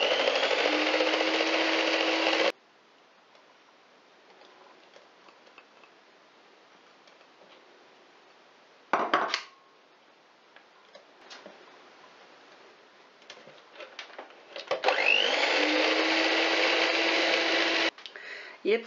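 Chocolate egg-liqueur cake batter mixed with an electric hand mixer, a loud steady whir for a couple of seconds, then quiet clinks and scrapes, and a second long burst of mixing near the end.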